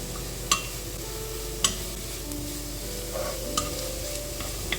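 Carrots being stirred into wheat rava upma in a pan, a low steady sizzle with a few sharp scrapes of the spoon against the metal.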